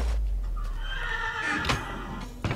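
A horse neighs in the Minecraft video game, a clear whinny rising and falling for about two seconds with a soft thud at the end.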